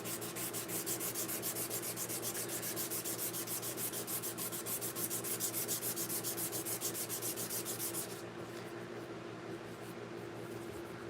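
Hand sanding with 320 grit sandpaper in a workshop: steady, close, rapid back-and-forth scratching strokes that run continuously, then soften slightly near the end.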